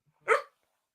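A puppy lets out a single short, sharp bark, close and fairly loud, followed by silence.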